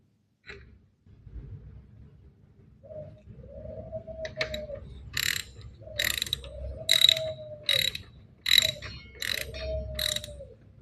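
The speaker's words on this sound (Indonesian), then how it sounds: "Nah, ini as sudah terpasang, baut murnya sudah dipasang, kita akan kencangkan." A wrench ratchets in short repeated clicking bursts while the axle bolt and nut are tightened on a Suzuki Address scooter, with pigeons cooing nearby between the clicks.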